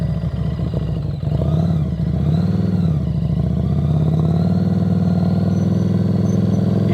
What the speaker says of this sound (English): Hear those revs?